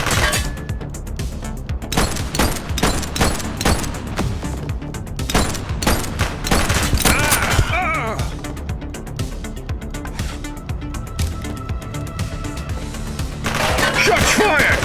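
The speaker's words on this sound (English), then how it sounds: "Shots fired!" Gunfire in the police video game The Precinct, rapid volleys of shots and booming bursts during a suspect chase, loud and dense throughout, with a voice shouting at points.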